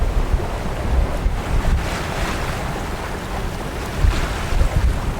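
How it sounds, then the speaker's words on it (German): Wind gusting and waves rushing against a sailing yacht at sea in about 20 knots of wind with the genoa rolled out, a steady loud roar of water and wind buffeting the microphone, with deeper thumps of hull and swell. "Wir haben jetzt praktisch von ganz wenig auf 20 Knoten Wind."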